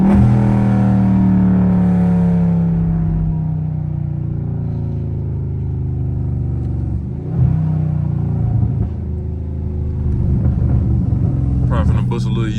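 A Dodge Charger Scat Pack driving loudly on a street, its deep engine rumble droning steadily with a brief surge partway through, heard from inside the car under occasional talk.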